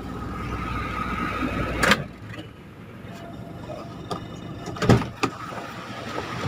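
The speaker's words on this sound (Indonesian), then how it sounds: "oh kap dibuka." The hood of a 2001 Daihatsu Taruna is opened, giving a couple of sharp metallic clunks and a latch release over a low background hum.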